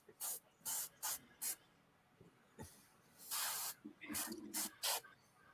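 Airbrush cleaner sprayed from a bottle in a series of close hissing bursts, several short ones and a few longer sprays, with speech in between.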